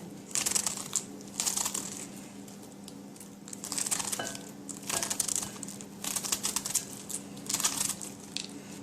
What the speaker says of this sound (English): So I'm gonna cut this very thin.